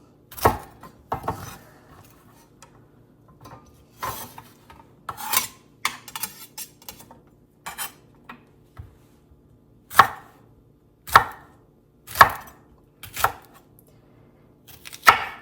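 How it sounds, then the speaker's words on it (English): A knife slices through a large jalapeno on a cutting board, with spaced crisp chops that start in a quick cluster and then settle into single firm cuts. "I'm going to just slice up this giant jalapeno."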